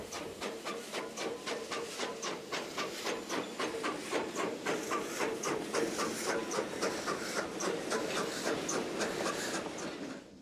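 An Alco steam locomotive built in 1920 works at a Cuban sugar mill, with loud, rhythmic exhaust chuffs and hiss repeating steadily and building slightly in strength as it runs close by.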